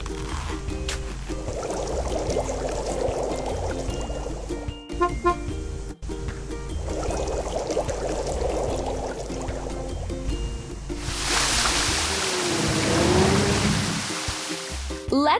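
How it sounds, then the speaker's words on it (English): In a kids' construction video game, a fountain fills with water: a steady rush of splashing, gushing water rises loudly near the end. Bright electronic game music and effects run underneath throughout. "Let's fill it with water and turn the fountain on."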